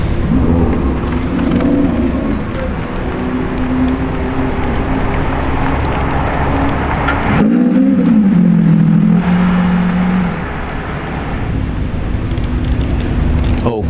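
A Lamborghini Revuelto drives past amid continuous loud traffic and engine noise, its engine tone rising and sweeping briefly as it passes close by.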